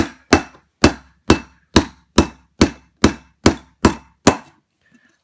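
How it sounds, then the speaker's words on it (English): A large Phillips screwdriver knocks on a pistol hammer set on a block during disassembly of a Baby Desert Eagle/Jericho 941, ten sharp metallic taps in an even rhythm, close and loud, then silence. "I have a bigger Phillips head screwdriver that I'm gonna take and just kind of"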